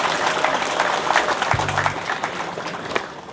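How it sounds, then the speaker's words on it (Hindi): Applause from an audience at a student union foundation day celebration in Palin, greeting the fifth-ranked student, with steady clapping throughout, a brief low hum and some background voices. "प्लीज जोरदार तालियां हो जाए"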